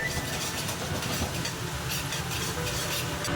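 Ginger and chili flakes stir-fried in a wok with minced pork for a Sichuan bamboo shoot dish, giving a steady close sizzle with scraping stirs throughout and no talk.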